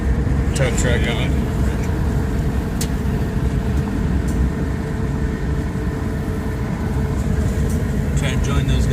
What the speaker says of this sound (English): There's another tow truck going.